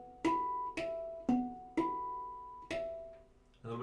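Isolated harmonics tapped on a Halo Aegean handpan in a quicker series, five bright metallic pings with ringing overtones, closely spaced, ending in a faint final touch.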